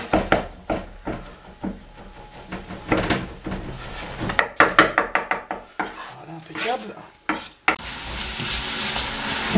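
Eggplant pieces fry in olive oil with pressed garlic, a sizzle broken by repeated scraping and knocking of a utensil against the pan, ending in a steadier, louder hiss.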